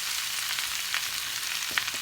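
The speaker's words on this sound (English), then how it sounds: "we're just going to saute that off a bit until it wilts" Spring onion, coriander and fresh mint sautéing in a pan, a steady close hiss of frying with a couple of light stirring scrapes.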